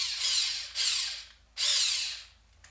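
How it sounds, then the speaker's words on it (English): Toasted sesame seeds crushed in a hand grinder over a poke bowl, heard as two close, loud, gritty grinding bursts each lasting under a second, with brief pauses between. "Then grind some toasted sesame seeds."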